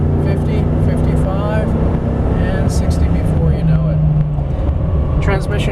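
A 2004 Chevrolet Avalanche pulls hard uphill from a standstill toward 60, its engine drone loud and steady from inside the cab, with a voice talking over it.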